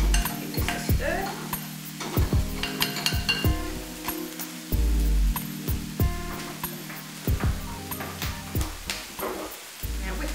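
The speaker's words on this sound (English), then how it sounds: "Give this a stir." Calamari being stirred in a pan for a warm calamari salad, with repeated scraping and clattering strokes over a low steady hum and faint sizzle, close and moderately loud.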